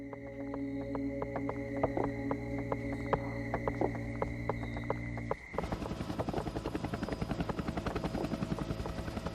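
A military helicopter flies nearby with a loud, continuous rotor throb and engine whine, the pitch and texture shifting abruptly midway as the rotor beat becomes sharper and more rhythmic, with no voices.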